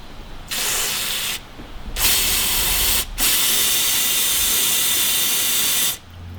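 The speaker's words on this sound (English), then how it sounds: "So I've got a can of brake clean, and I'm just going to spray down this little section right here." Brake cleaner sprays from an aerosol can onto a car's brake line fitting, three or four sustained, loud hissing bursts separated by brief pauses, close up with no voices.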